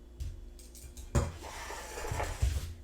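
Coated potato pieces tumble from a bowl into a baking pan for oven-fried potatoes, a close clatter and scrape of food and metal with one sharp thump at the start and shuffling clinks after, no voices.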